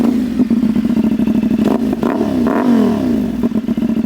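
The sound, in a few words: CFMOTO 450SS motorcycle with KO Lightning slip-on exhaust revving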